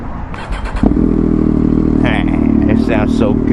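A Triumph Daytona 765 Moto2 Edition motorcycle, close by, its engine blipped a few times and then revving hard and held high with rising and falling pitch. Loud, with no talk over it.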